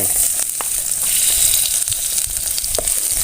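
Garlic fries in hot oil in an electric pot, giving a loud, steady, close-up sizzle with small crackles throughout and no talk.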